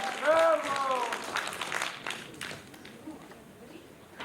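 Applause from an audience at a Ukrainian children's concert show, starting loud amid a few voices and a short sung or spoken phrase, then thinning to scattered clapping over the next few seconds.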